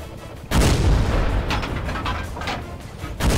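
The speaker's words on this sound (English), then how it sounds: "we're just going to do a little bit of more blind firing here into this bush" A Panzerjäger I tank destroyer cannon fires in World of Tanks on the Raseiniai map. A heavy, close boom rolls out into a rumbling tail, and a second shot lands about three seconds later.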